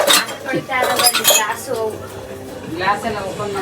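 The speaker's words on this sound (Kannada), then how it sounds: "ಪಾತ್ರೆ ತೊಳಿತಾವ್ರೆ, ಟಪಾರ್ ಅಂತೆಲ್ಲ ಸೈಡ್ಗೆ ಎಸಿತಾವ್ರೆ ಎತ್ತಿ" Dishes and pots clink and clatter close by while someone talks over them.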